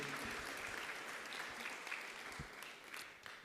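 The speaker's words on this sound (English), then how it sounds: "Give a clap for your VC for that message." An audience at a University of Nairobi study-abroad session claps for the vice chancellor's message, a fairly faint but steady patter of many hands that thins slightly toward the end.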